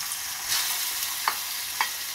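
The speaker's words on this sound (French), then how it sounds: "je veux mettre de l'huile d'olive. Après, je veux mettre des oignons et puis un petit peu de l'ail" Onions and garlic fry in olive oil for seafood rice, a steady bright hiss with a soft stir midway and two small crackling pops, close and continuous, with nobody speaking.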